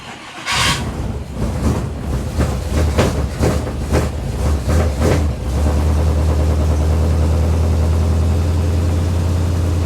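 A 1957 Chevy convertible engine cranks through a series of uneven, rhythmic starter turns before catching, then settles into a steady, deep, loud idle with no voices.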